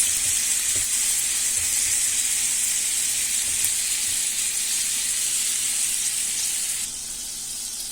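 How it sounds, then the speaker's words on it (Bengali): A pan sizzles loudly and steadily as Szechuan sauce goes in, a dense close hiss that holds for several seconds before easing slightly near the end, with no voices. "এই যে সিজওয়ান সসটা দিয়ে দিচ্ছি।"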